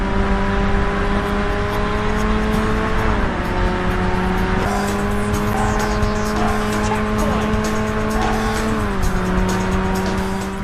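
Race car engine from the PS2 game Burnout, a loud, steady high-pitched drone that holds through the run with brief pitch dips at gear shifts and corners, accompanied by faint tire noise.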